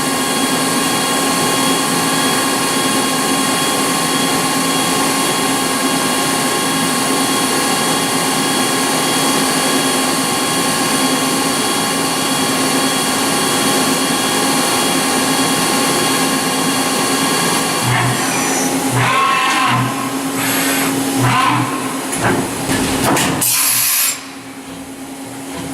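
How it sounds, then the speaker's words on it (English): A Doosan DMV3016LD CNC machine deep-hole drilling hums loudly and continuously with a high whine, then near the end a series of sharp mechanical clunks and a brief burst of noise. "Gonna deep hole drill the same 4 holes again"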